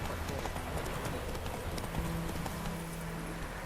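Horse hooves clip-clopping at a steady walking rhythm in the video game The Witcher 3, heard under a dense bed of game ambience and music.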